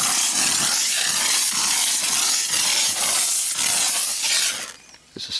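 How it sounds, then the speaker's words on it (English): A steam cleaner hisses loudly and continuously, a dense, broad rush of steam with small pulsing variations that cuts off abruptly near the end. "It's a steam cleaner"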